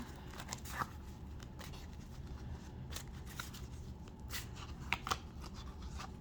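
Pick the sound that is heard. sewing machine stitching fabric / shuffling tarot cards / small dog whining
shuffling tarot cards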